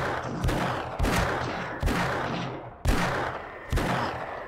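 Gunfire aimed at zombies in 7 Days to Die with a Wild West mod during a horde night, five loud, evenly spaced shots, each with a long echoing tail.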